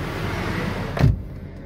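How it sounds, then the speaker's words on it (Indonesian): A 2012 Toyota Corolla Altis 1.8 G car door shuts once with a single solid thump about midway through. The steady ambient noise drops to a hushed, muffled cabin quiet right after, and no one speaks. "saya akan tutup pintu mobil ini"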